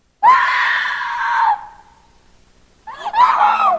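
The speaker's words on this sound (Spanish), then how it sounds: "La obra abre con el grito desgarrador del personaje principal" Grace, the main character of the film The Others, lets out an anguished, piercing scream, loud and close, that breaks off, then after a short pause cries out again just as harshly.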